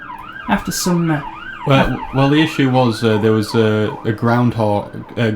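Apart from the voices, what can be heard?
police car sirens in the background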